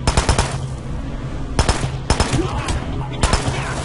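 Rapid bursts of gunfire in the video game Hitman: Absolution, loud automatic shots in clusters with brief pauses between them.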